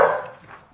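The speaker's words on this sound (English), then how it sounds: "I don't know what my dogs are barking at." A single short dog bark sounds at the start and quickly fades into a soft indoor echo, heard from somewhere in the house.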